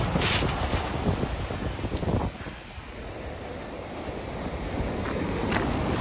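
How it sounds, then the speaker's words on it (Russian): Storm waves surging and breaking on a pebble beach in Sochi, a continuous loud wash with a heavy crash near the start and wind rumbling over the microphone, no voices. "Вон, волна, смотрите."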